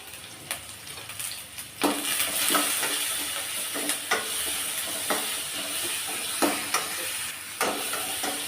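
Onions sauté with salt and curry leaves in oil for sambar, a soft continuous sizzle broken by sharp spatula scrapes and taps against the pan at irregular intervals. No one speaks.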